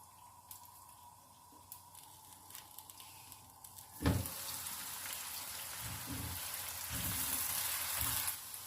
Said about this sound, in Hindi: पैन में घी डाल देंगे, प्याज शामिल कर देंगे